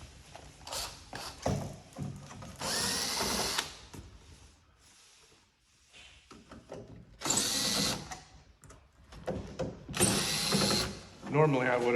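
Power drill backing screws out of a 1983 Exidy Fax countertop trivia arcade cabinet, whirring in several short bursts close by, with talk between the runs.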